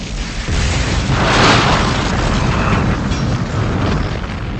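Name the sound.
explosion and fire of starship saucer in Star Trek III film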